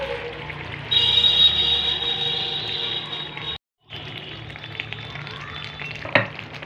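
Chicken tikka curry with butter and kasuri methi fries and is stirred in a pan, a constant close sizzle that briefly drops out, then resumes with a single clank near the end; no one speaks.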